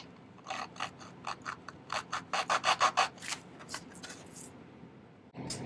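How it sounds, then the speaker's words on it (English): Rhythmic rasping strokes of a half round file shaping wood for a Valentine's Day Cupid's bow, about fifteen close, distinct passes building to a quick steady run before trailing off. "starting with my half round file here"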